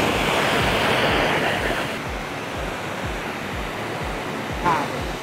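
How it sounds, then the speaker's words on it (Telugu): A high pressure water jet blasts steadily against the edges of a smartphone, a loud continuous hiss of spray with a rhythmic pulsing low thump beneath it. "ఎక్కువగా గ్యాప్ ఉన్న ప్లేస్లోనే మనం హై ప్రెజర్ వాటర్ జెట్స్ అయితే కొడదాం."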